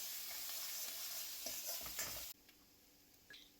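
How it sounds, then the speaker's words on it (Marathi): Chopped ginger and garlic fry in hot oil in a pan during veg chowmein prep, a dense hiss broken by stirring scrapes that stop abruptly partway through, leaving a faint quieter sizzle with a small clink near the end. "आपण त्यात चॉप केलेलं जिंजर गार्लिक टाकूया आणि छान फ्राय करून घेऊया."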